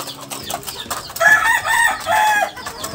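Chickens being fed cluck and crow close by, with a rooster's loud crow rising over busy clucking, no talk.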